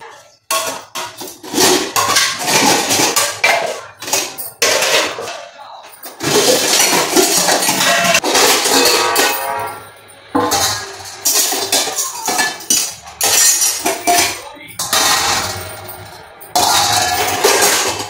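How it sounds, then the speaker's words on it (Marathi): Dishes and two dirty pressure cookers are washed by hand, with bursts of clattering metal, scraping and splashing separated by short quiet gaps. "दोन्ही कुकर कधी खरकट आहेत. त्यामुळे पहिल्यांदा कधी भांडी घासून घेऊया"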